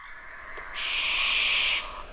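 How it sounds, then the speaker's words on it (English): An owl chuckling at the nest as a parent arrives, a steady high raspy call swelling for about a second and then stopping, heard alone against a quiet night background. "That's the chuckle of one of the owls coming into the nest."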